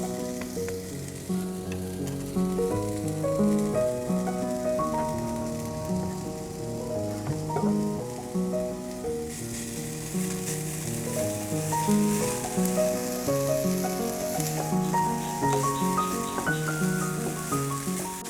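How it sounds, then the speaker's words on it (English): Steady crackling sizzle of Tom Yum paste frying in hot oil, a dense, continuous spatter that holds for the whole stretch under soft background music, with no talking. "Once the oil is hot, add your Tom Yum paste."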